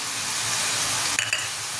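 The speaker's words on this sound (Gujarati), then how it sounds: "તો તમે જોઈ શકો છો આપણો સૂપ ઉકળે છે" A pot of tomato soup, thickened with cornflour, bubbles and hisses steadily at a close, even level, with a couple of brief clinks near the end.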